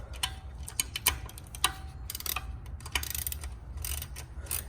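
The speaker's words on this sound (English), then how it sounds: "take your 10 millimeter. Now I'm going to start with taking this nut off." A 10 mm wrench works a nut off an oil pan stud on a Fiat 500 Abarth, giving scattered light metallic clicks and ratcheting ticks at close range with no talking.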